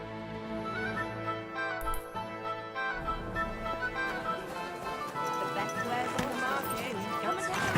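Horse hooves clip-clop on the ground in Kingdom Come: Deliverance II, a steady walking rhythm beneath a busy medieval market scene with background music and people talking.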